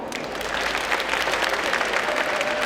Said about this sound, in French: Vous savez applaudir?